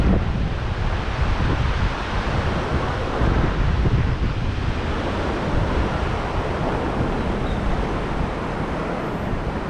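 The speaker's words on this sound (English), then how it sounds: "by the river that runs through the town" A river flows through the mountain town of Morzine in Les Portes du Soleil, a loud, continuous broadband rush of water mixed with wind buffeting, with no voices.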